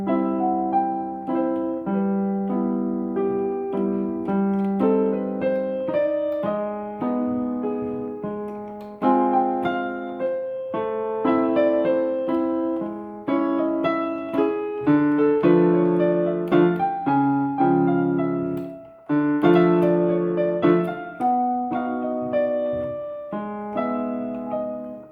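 A solo piano plays a melody from the movie IT, with a slow, steady left-hand chord pattern under the tune. The notes ring and decay cleanly and continuously for about 25 seconds, with no talking.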